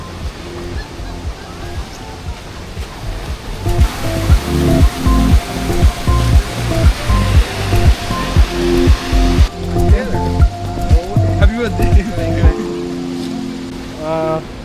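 Water from a reservoir roars steadily through a spillway at Ginipetti Bridge in a broad, constant rush, while a person talks loudly over it for most of the stretch.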